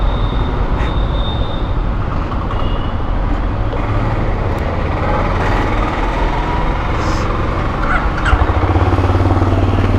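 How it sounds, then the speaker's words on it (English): A Benelli Imperiale 400 motorcycle idles with a new exhaust, a loud, close, steady low thumping rumble that holds throughout with no speech. "Otherwise the motorcycle has a low thump but a perfect sound right now."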